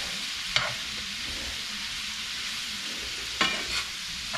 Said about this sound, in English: So we just keep stirring this until it's all good and done.